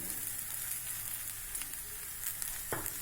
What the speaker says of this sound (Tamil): இப்போ மிளகாத்தூள் போட்டுக்கலாம். இந்த சூட்லேயே அது நல்லா வறுபடும்.